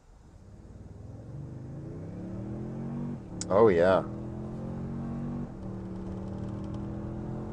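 A 2024 Toyota Tundra Limited pickup accelerating from 0 to 60 in sport mode and four-high: a steady engine drone rising in pitch through the run, with a short shift near the middle and someone speaking briefly.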